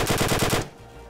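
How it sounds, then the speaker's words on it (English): Rapid automatic gunfire from a Unity first-person shooter game rattles off about seven loud shots in quick succession, then cuts to a quiet, low hum. "And now the best part of every FPS game, it's the shooting animations."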